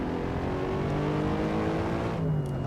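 Corvette mod race car in Assetto Corsa, engine droning at high revs in a steady, loud, continuous howl with a slight pitch shift near the end, no speech.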